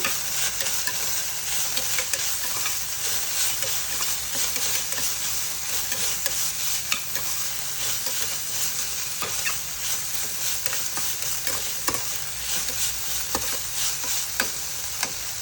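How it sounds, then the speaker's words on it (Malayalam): Crushed ginger and garlic sizzle steadily in a hot pan for a biryani, with frequent sharp scrapes and clicks of a spoon stirring through, close and continuous with no talking. "ഇനി നമുക്ക് നമ്മളിതിൽ ചതച്ച് വെച്ചിട്ടുള്ള ഇഞ്ചി വെളുത്തുള്ളി ഒക്കെ ഇട്ട് കൊടുക്കാം കേട്ടോ നന്നായി ഇളക്കാം"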